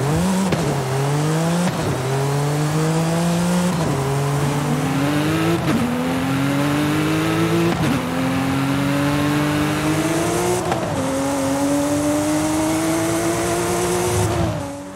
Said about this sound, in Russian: Вы послушайте сами, но звук у 935-го реально свой.